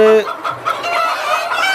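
Sonali and Kadaknath chickens cluck close by on a poultry farm, a quick run of sharp clucks and short squawks over a couple of seconds.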